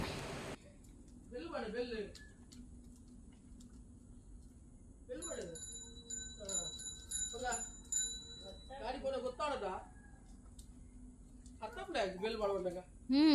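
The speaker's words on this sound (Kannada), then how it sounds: "ಬೆಲ್ ಬಡ್ಲಿ" A child rings a small bell while playing outdoors with a grandparent, giving a few bright metallic rings spaced through the middle. Adult voices talk and encourage throughout.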